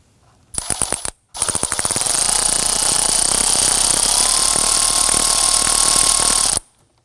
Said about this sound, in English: we're going to use our 7mm socket and a really long extension